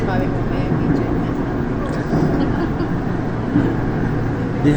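Steady rumbling roar inside an LRT Line 2 train car riding between Recto and Marikina, a constant broadband rolling drone with faint rattles throughout.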